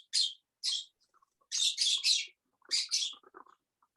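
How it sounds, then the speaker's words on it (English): Small pet birds chirp in a quiet room, giving short bright tweets in scattered bursts, some in quick runs of two or three, close and clear with no talking. "Those little birds are really a little blessing. They just sound like sunshine."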